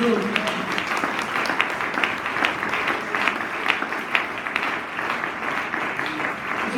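A church congregation applauds during a sermon, a steady wash of many hands clapping throughout, with some voices mixed in.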